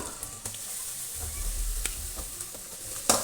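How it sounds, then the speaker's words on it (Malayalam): Chopped shallots sauté in a pan for Kerala-style chicken curry, giving a quiet, continuous sizzle with occasional spatula scrapes and taps close by. "ചെറിയ ഉള്ളി നന്നായി വഴറ്റുക."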